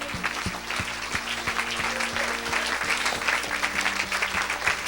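A church congregation at a Saturday service applauds in sustained, dense clapping that fills the room throughout. A low musical drone and faint voices sit underneath.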